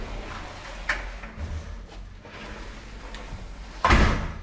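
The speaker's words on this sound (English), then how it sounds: "we'll go right into the front door here." Front door of a house on Vieques Island, Puerto Rico, opening with a soft thump and rattle, then a louder clack near the end, heard close in a quiet interior.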